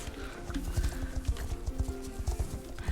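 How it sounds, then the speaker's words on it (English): Hooves of a dapple-gray Andalusian horse clip-clop in a steady, rhythmic trot within a video game, clear and fairly close with a faint tonal music bed beneath. "she rode a horse like the horse I'm riding now"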